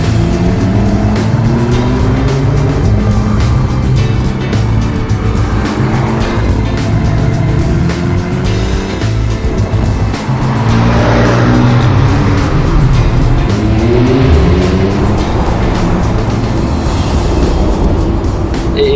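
Porsche sports car driven hard on winding mountain roads, its engine loud and close throughout, rising and falling through repeated gear changes and revs, with occasional tire squeal.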